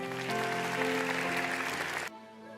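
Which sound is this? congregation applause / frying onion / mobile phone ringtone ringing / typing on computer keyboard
congregation applause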